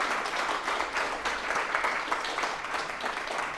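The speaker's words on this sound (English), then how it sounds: "let's give him a round of applause" An audience at a book launch event applauds, giving dense, continuous clapping at moderate distance that carries on for several seconds with no voices on top.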